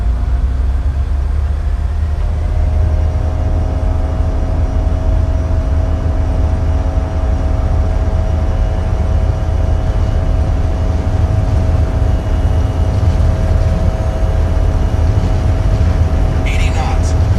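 Embraer E-Jet airliner engines in Microsoft Flight Simulator spooling up to takeoff thrust, a loud continuous roar with steady whining tones that holds throughout.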